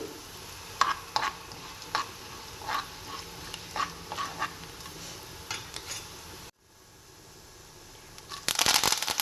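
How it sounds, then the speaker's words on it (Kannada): Coriander seeds and cumin roasting in hot oil, crackling and scraped with a spoon in intermittent strokes, then a brief pause before louder clattering at the end. "ಎಣ್ಣೆ ಸ್ವಲ್ಪ ಕಾದ ನಂತರ ಇದಕ್ಕೆ ಧನಿಯಾ ಹಾಕ್ಕೊಳ್ಳೋಣ ಎರಡು ಸ್ಪೂನ್ ಧನಿಯಾ ಮತ್ತು ಒಂದು ಸ್ಪೂನ್ ಜೀರಿಗೆ ಸ್ವಲ್ಪ ಹಾಗೆ ಹುರ್ಕೊಂಡು"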